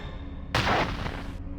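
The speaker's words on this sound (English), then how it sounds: "I think I've set off an explosion in one of the rooms." A blast goes off in a room full of stored solvents in the 1996 Sierra video game Urban Runner, a sudden loud burst that rumbles for under a second before ending over low background hum.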